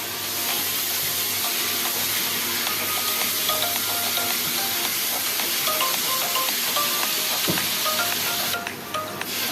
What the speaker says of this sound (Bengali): এবারে দিলাম টমেটো পিউরিটা ওটাও সম্পূর্ণ ভালোভাবে মিশিয়ে আমি আবারও কষতে থাকছি